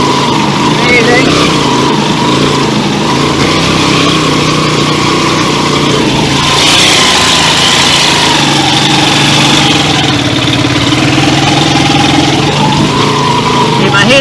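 An old 150cc motorcycle engine fitted with a 125 carburetor drones steadily and loudly up close while climbing a steep hill, its pitch shifting as it labors, with wind noise over it throughout.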